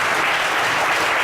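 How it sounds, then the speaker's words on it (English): A crowd claps in steady, dense applause throughout. "Give them a round of applause."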